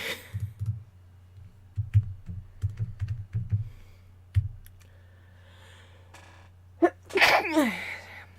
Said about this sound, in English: But I really needed to sneeze.